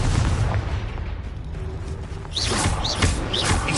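Confringo fire spell explosion in Hogwarts Legacy on PS5, a loud booming blast with rumbling decay, followed by further sharp bursts and high whistling spell effects.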